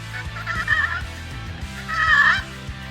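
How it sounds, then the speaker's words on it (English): A slate turkey call makes soft, rolling purrs: two drawn-out trilling calls with a pause between, close and fairly loud. "For a purr, you slowly drag the striker in a straight line or the slight hook at the end to change the pitch."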